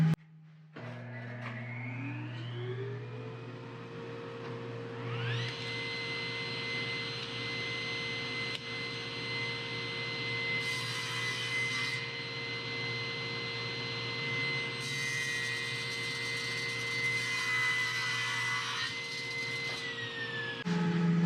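Miter chop saw and sliding panel cutter cutting timber flooring boards for a timber frame shed: a steady motor whine spins up and runs continuously at close range, with louder bursts as the blade bites through the wood, then winds down at the end.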